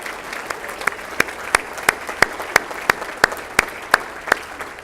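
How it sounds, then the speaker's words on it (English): Audience applause at Garden Grove's 2019 State of the City event, a steady crowd clapping with sharp individual claps standing out in a fairly regular rhythm throughout, moderately loud and with no talking over it. "a round of applause"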